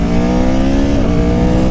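A 2019 Aprilia Tuono Factory motorcycle engine revs hard with an open exhaust, giving a loud, close, continuous roar that climbs in pitch, dips briefly, then keeps pulling.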